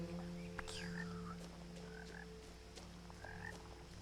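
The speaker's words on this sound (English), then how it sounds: "I hear a frog." Frog croaks in the video game What Remains of Edith Finch repeat against a steady low hum, a few rising calls spaced a second or so apart, fairly faint with no voices.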